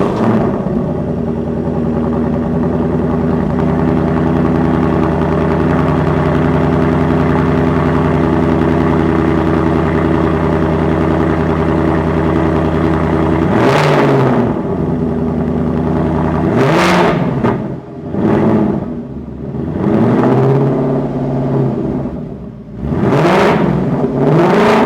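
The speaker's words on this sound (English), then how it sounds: "Let's hear how this dark horse sounds with the WHIPPLE Supercharger." A deep, rumbling V8 in a 2025 Ford Mustang Dark Horse with a Whipple supercharger idles loudly for several seconds, then revs sharply in a few quick bursts, the pitch climbing and dropping with a supercharger whine.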